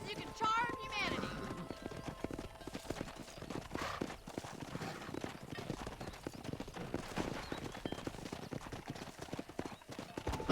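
Hooves clip-clop in a steady rhythm as a horse is ridden through the countryside in Red Dead Redemption on Xbox 360, with voices talking over the hoofbeats.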